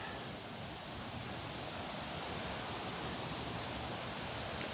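Pinhook Creek flows where it meets the Spring Branch, a steady broadband wash of moving water that stays even and unbroken throughout, with no voices over it.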